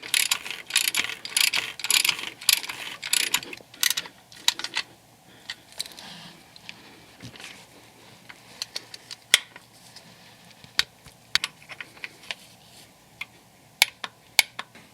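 A ratchet clicking in quick bursts while tightening the oil drain plug on a 2018-2019 Chevrolet Equinox 1.6L diesel, dense at first and then sparse single clicks, close and alone.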